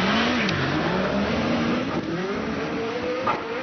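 A hillclimb race car launches hard off the start line at the British Hillclimb Championship, its engine note rising and falling through steady, loud revs with a brief gear-change dip midway, heard close and continuous.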